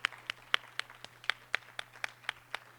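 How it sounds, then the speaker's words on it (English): Clapping at an evening rally comes as a slow, evenly spaced series of about a dozen claps. They sound quiet and sparse rather than like a full crowd. "Give yourselves a round of applause for being here tonight."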